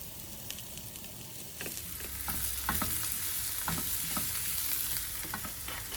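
Mushrooms sizzling and frying in a pan with garlic and green chili, with scattered stirring clicks over a steady hiss; no talking.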